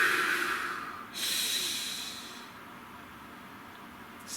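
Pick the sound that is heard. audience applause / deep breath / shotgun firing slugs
deep breath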